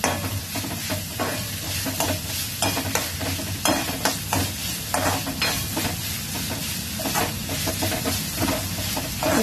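Ingredients stir-fried in a pan over raised gas heat, with steady loud sizzling and hissing broken by repeated scraping and stirring strokes throughout, no talking.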